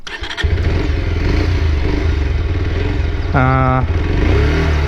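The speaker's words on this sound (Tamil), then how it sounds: "இது எப்படி இருக்குன்னால உங்களுக்கு அப்படியே ஓட்டி உங்களுக்கு காட்டுறேன் நான். வாங்க ஸ்டார்ட் பண்ணலாம்." A Bajaj Pulsar Neon 125 motorcycle engine cranks and fires, then settles into a loud, close, steady idle with a short throttle blip near the end.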